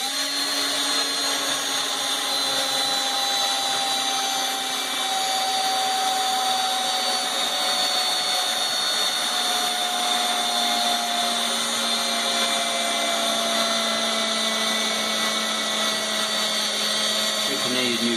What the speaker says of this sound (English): drill all the way through.